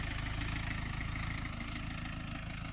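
A Renault Kangoo 1.5 dCi diesel van idles close by, a quiet, steady low rumble with an even, rapid pulsing throb.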